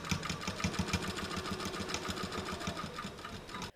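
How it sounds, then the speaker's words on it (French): A sewing machine stitches the armholes of a vest with a fast, steady, even needle rhythm. It is close and clear with no talking, and it stops abruptly at the end. "Les emmanchures sont prêtes, maintenant je vais les coudre à 1 cm."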